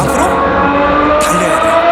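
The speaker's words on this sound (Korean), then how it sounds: "시동. 이 소리죠. 이게 페라리 소리죠." A Ferrari supercar engine starting up, loud, close and sustained with a dense harmonic roar and a brief rise partway through.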